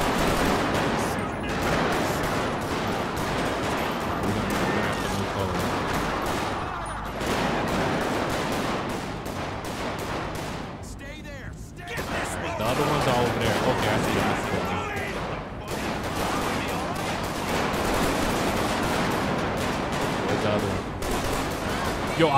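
In the GTA 5 video game, played with the LSPDFR police mod on a highway patrol, suspects open fire and rapid gunfire bursts crackle almost continuously for over twenty seconds, with a brief lull midway and talk mixed in.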